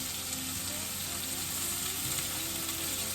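Burgers sizzle steadily in a frying pan after Worcestershire sauce goes onto the turned side, a close, even crackle and hiss that runs unbroken throughout.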